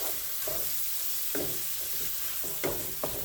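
Sausage browning in a greasy pan for gravy, a soft continuous sizzle broken by several louder stirring scrapes and spatula knocks.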